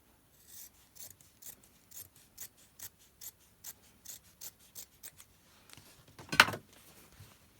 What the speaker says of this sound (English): I'm just going to cut those selvage edges off.